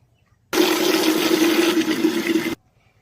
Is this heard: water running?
yes